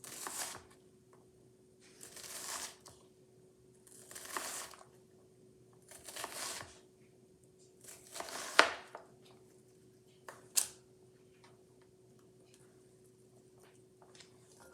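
A knife dices onions on a cutting board in bursts of rapid, close chopping strokes separated by short pauses, and no one talks.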